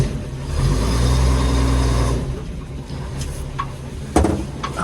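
A WW2 halftrack's engine idles and rumbles as the vehicle backs up slightly, a loud low throb for about two seconds that eases to a quieter idle with some clunks and rattles.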